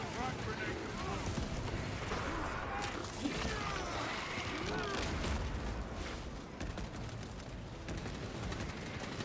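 A frag grenade blast in the Warhammer game Space Marine 2, a heavy rumbling boom that swells and rolls amid dense battle noise and gunfire, sustained and loud across the whole stretch.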